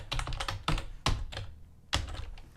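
Keys clacking on a computer keyboard in bursts of quick strokes with short pauses between, close and fairly loud, while someone sets up an attack trigger for a top-down action adventure game.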